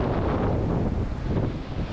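Strong wind buffets the microphone at Navarre Beach after Tropical Storm Claudette, a continuous loud rumbling roar with surf mixed in, no voices.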